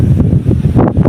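Strong wind buffets a microphone outdoors beside a house, under a neem tree's shade near grassy fields, making a loud, continuous low rumbling roar with uneven gusting.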